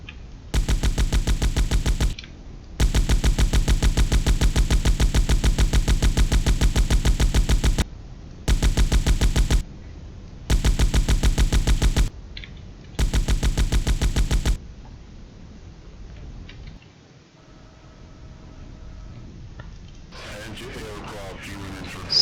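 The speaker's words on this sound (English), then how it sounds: "And it's a closed version with the machine gun." Machine gun fire in the video game X-Point, loud sustained bursts of rapid shots in several long strings separated by short pauses, then quieter ambient game sounds.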